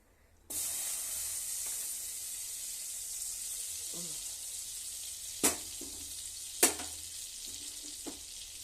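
Butter melting in a pan for paneer kurma gives a steady, close hiss and sizzle that starts suddenly and runs on, with a few sharp clinks of a utensil against the pan and no talking.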